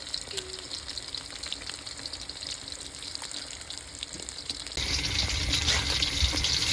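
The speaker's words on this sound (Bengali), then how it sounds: "তেল দিয়ে কত সুন্দর করে ভেজে নিয়েছি একদম কড়কড়ে করে ভেজে নেব" Fish frying crisp in hot oil at an outdoor village cooking session in Bangladesh, a steady hiss and sizzle with faint clinks, growing noticeably louder and denser partway through.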